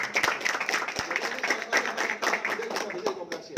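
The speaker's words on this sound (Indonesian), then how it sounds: "Tepuk tangan beliau ya" Lively clapping from an audience at a community meetup, with brisk, overlapping claps throughout and people talking underneath.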